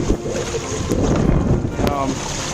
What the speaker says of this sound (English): we got more wind, and now we cruising pretty good now